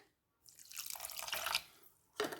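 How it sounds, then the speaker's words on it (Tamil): Half a cup of water is poured into a pan of sugar to make syrup for a halwa sweet, a short close splashing pour lasting about a second, then a brief second splash after a pause. "இதுக்கு வந்து அரை கப் தண்ணி விடுறேன்"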